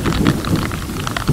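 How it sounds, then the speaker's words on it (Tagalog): Heavy rain pours down during a motorcycle ride on a service road toward Tagaytay, a loud, continuous hiss of falling water with scattered drop impacts over the whole short moment. "Pagdating namin sa service road, lalong lumakas ang ulan."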